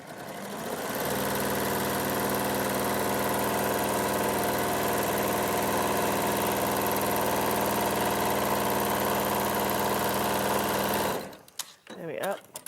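Steady, loud whirring hum of a sewing machine stitching two fabric edges together, running unbroken for about ten seconds before stopping abruptly, followed by a few handling clicks.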